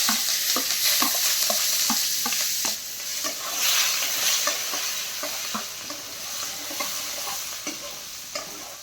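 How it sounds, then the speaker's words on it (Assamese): Onion, green chili, ginger and garlic sizzle in hot oil while being stirred, producing a dense, steady hiss with rhythmic scraping strokes throughout. The sound is close and fairly loud. "পিঁয়াজ জলকীয়া আদা ৰচুন এইটো ভাজি লওঁ তেলত।"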